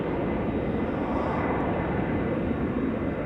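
KLM Embraer E295 airliner at Amsterdam Schiphol Airport, its engines giving a steady, loud broadband roar that holds constant throughout with no talking.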